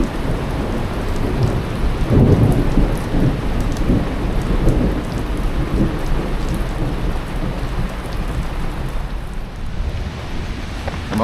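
Heavy rain pours steadily, with deep thunder rolling in the background, loudest early on before settling into a constant downpour.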